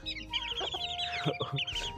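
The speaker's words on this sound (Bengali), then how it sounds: "এখানে কিছু বাচ্চা মুরগি আছে আমার সুন্দরীর সাথে।" Baby chickens and a hen on a free-range farm cluck close by, a busy run of short, overlapping clucks and peeps that continues without pause.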